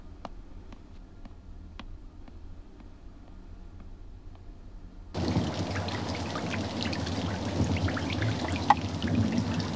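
Rain falling outdoors, starting suddenly as a dense, steady patter of drops after a quiet indoor stretch with faint ticking, and continuing evenly at moderate loudness.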